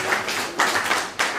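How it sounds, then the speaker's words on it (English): A classroom of pupils claps their hands together in a few quick, close bursts of applause, each burst short and sharp. "Let's clap this way."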